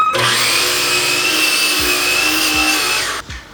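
A miter saw cuts small wood pieces with a loud, steady high whine, several dull thumps and knocks during the cut, then the motor spins down abruptly near the end.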